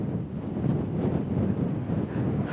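Steady wind buffets the microphone high on Mt Arthur in Kahurangi National Park, a continuous low rumbling rush with no voices.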